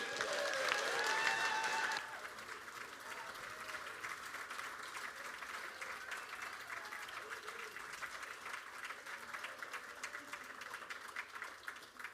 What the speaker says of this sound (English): Warm round of applause for Mr. Harry Freeman